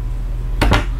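A single drawer slides and thuds shut in a quick double clatter, close by, in an otherwise quiet room inside a 2015 Newmar Dutch Star 4018 motorhome.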